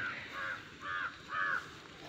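Crow cawing near mustard fields, four harsh caws in a steady rhythm, fairly close and clear over quiet outdoor background.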